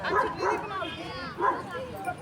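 A dog gives a few short, close barks and yips, mixed in with a person's voice, beside a hut with a mud stove.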